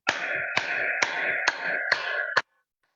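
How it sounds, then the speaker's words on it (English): A single person claps hard and deliberately during a health demonstration, six sharp, evenly spaced claps about half a second apart, close and loud, with each impact ringing briefly before the next. "I'll give you a demonstration of how to clap"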